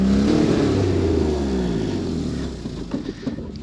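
A 2001 Nissan Pathfinder R50 with three-wheel drive revs while stuck, its engine roaring loudly and steadily before the note sags and fades into rough, uneven sputtering.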